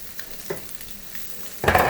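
Leftover broccoli warming in a pan gives a soft, steady sizzle with a few light stir scrapes, rising into a louder burst of frying near the end.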